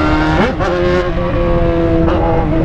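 Yamaha XJ6 motorcycle revving on a city avenue in Londrina, its engine rising in pitch in a couple of quick throttle blips, then holding a steady loud drone with another brief rev near the end.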